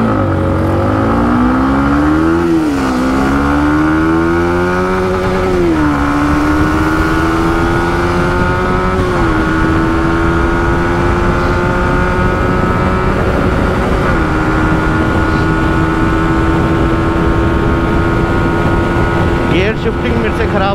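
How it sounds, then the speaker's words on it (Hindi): Yamaha MT15 motorcycles in a drag race: a steady, loud engine drone rising slowly in pitch as they accelerate, with gear changes producing brief dips, continuous throughout. "तो यार आ गए अपने बाइक पर और ड्रैग स्टार्ट करते हैं।"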